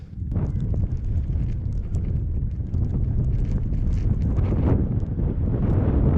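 Strong, steady wind in alpine mountains of Mount Aspiring National Park, New Zealand, buffeting the microphone with a deep rumbling roar and gusty fluctuations, loud and continuous with no voices.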